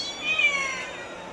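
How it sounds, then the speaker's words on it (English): One drawn-out cat meow, fairly close and clear, rises and fades against the steady hum of an animal shelter room. "Hello, all these beautiful kitties."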